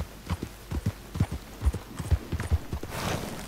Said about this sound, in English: Shift and control at the same time will cause the horse to skid again.